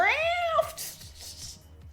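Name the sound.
person imitating a cat meowing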